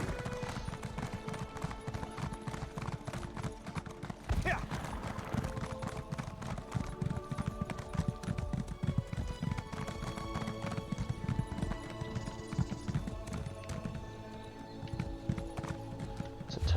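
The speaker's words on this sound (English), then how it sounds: "Let's get on our horse here." Steady clip-clop of horse hooves while riding a mount in the Elder Scrolls Online fantasy game, a rhythmic trot running throughout over layered game music and ambience, with no talking.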